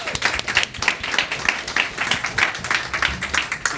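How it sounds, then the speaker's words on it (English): A round of applause for panelists at a food waste case-study event, with steady overlapping hand claps from a modest audience throughout. "So give them a round of applause."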